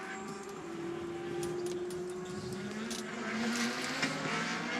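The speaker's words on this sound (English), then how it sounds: "So the 20 Porsche coming now through the Porsche curves." A Porsche race car at the 24 Hours of Le Mans sweeps through the Porsche curves, its engine note a steady droning pitch that shifts slightly as it passes at a moderate distance, with no talk over it.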